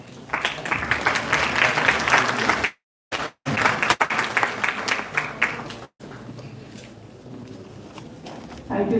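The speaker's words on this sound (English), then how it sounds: "A big round of applause for our guest." A seated audience at a college institute event claps for an honoured guest, giving dense, loud applause broken by two short silent gaps, then continuing more softly near the end.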